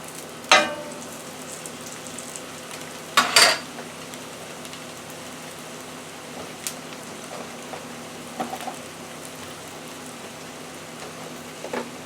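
Beef potato pie frying in a pan just after being flipped, a steady soft sizzle and crackle running throughout with a few louder pops and clatters near the start.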